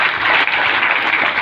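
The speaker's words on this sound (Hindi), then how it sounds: "जो समझ रहे हैं उनको तालियां।" Audience applause at a Mi Lifestyle Global business event in Bhopal, a dense, steady wash of many hands clapping with no break for the whole stretch.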